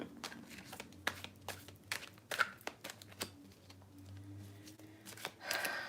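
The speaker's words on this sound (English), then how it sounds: "once I start pulling cards and shuffling sometimes, like I'll just keep going and going." Tarot cards being shuffled by hand, a run of crisp, irregular riffling snaps and soft card slides close up, with a brief rustle at the end and no speech.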